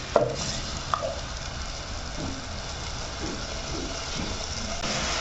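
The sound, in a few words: blended tomatoes cooking in pan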